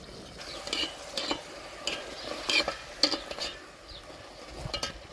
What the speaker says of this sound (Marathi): चरबी जठर वगैरे टाकून घ्यायचं ते तळलं तळतं